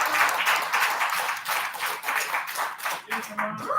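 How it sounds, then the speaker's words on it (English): A digital skills workshop audience claps for the team, a brief burst of uneven hand claps with voices mixed in. "a huge thanks and round of applause to Shama and the team"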